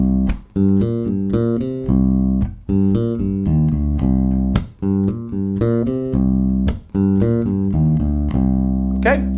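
Electric bass guitar repeats a simple riff in C natural minor round and round, a looping pattern of plucked low notes with sharp percussive attacks every couple of seconds, close and unaccompanied.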